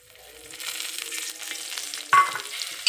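Garlic and green chillies frying in oil, a steady close sizzle with a sharper burst of spitting near the end as something is stirred or added.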